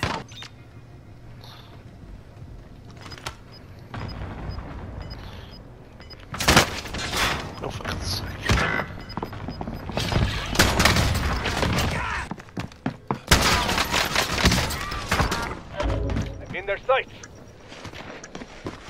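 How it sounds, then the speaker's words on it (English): Video game gunfire in a shotgun-heavy shooter match: repeated loud bursts and impacts come in clusters, especially mid-way and near the end, mixed with people talking over the action. "Taking fire here."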